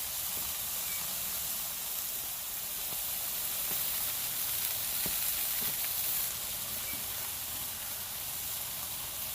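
Hamburger buns toast on the sear side of a grill set to its lowest heat, putting out a constant soft sizzle and hiss with occasional faint ticks and no voices.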